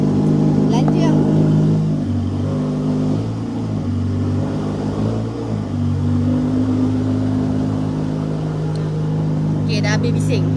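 Several cars idle and rev nearby, a steady low engine drone with swelling revs throughout, while people talk over the noise.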